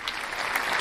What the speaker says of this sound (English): Round of applause for all the hot takes.